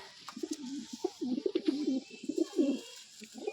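Pigeons at a fancier's home loft coo in repeated throaty, rolling phrases, close and fairly clear, with short pauses between bursts and no talking.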